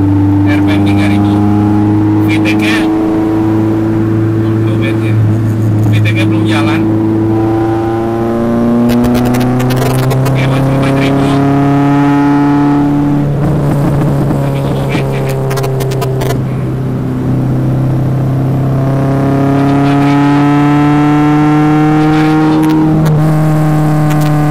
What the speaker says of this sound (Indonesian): ini adalah pertama kalinya gua gas nih mobil sampai pol